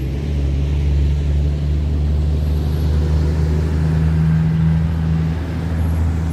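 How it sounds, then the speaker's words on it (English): A loud truck passes close by outdoors, its heavy low engine rumble holding steady and dense for the whole stretch with no talk over it. "let this loud truck go by"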